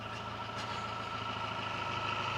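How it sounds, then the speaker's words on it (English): A mail truck's engine runs steadily nearby on a residential street, a continuous low rumble with a faint mechanical whine that holds an even level throughout, with no talking. "literally the mail truck is down the street"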